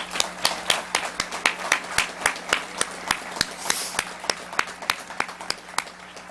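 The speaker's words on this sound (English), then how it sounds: "Let's give her and all of them another big round of applause." Audience applause at a ceremony honoring military Olympians and Paralympians, heard as a few distinct claps beating in a quick, regular rhythm over soft background clapping, fairly close and moderate in level.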